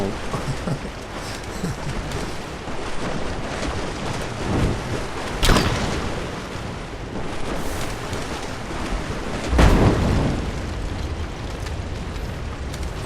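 Explosions in the video game Rise of the Tomb Raider: two heavy blasts go off a few seconds apart over a constant rumbling, windy background.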